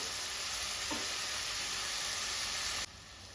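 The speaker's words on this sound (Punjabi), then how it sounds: "ਟਮਾਟਰਾਂ ਨੂੰ ਭੁੰਦੇ ਹੋਏ 1 ਮਿੰਟ ਹੋ ਗਿਆ ਹੋਇਆ" Tomatoes fry in a pan for besan bhurji, a loud, close, even sizzle that holds steady and then drops off abruptly near the end.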